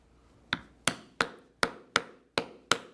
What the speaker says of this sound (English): it's the stitching style chisel, I will punch right on the line